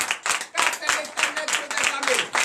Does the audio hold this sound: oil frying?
no